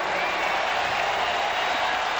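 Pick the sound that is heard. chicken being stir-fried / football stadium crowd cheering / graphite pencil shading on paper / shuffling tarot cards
football stadium crowd cheering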